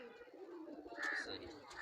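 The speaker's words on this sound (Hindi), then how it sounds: "सही ये एक दुम का कबूतर है ये।" Soft cooing of a high-flyer pigeon close by, a few low murmuring calls in a short stretch with faint background noise.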